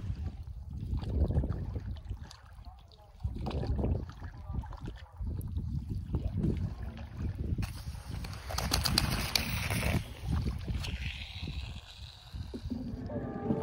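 A rowing boat moves on the river at the Nabadwip ghat, with steady low water and oar sounds under outdoor ambience, occasional birds and brief bursts of hiss and clatter in the middle.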